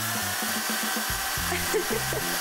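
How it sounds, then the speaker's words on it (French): A power drill whirs in short repeated bursts, stopping and starting with brief pauses between runs, close and fairly loud against a steady background hum. "Oh, une perceuse. Mettons-la au travail."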